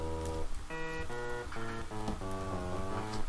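A short audio sample loops repeatedly in the LMMS Audio File Processor, giving a choppy, rhythmic series of tonal bursts with a noisy background, fairly quiet and with no speech.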